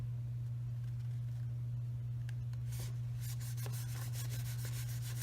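A fingertip rubs firmly along the glued flap of a folded paper bag, soft scratchy strokes that grow denser and brisker toward the end over a steady low electrical hum.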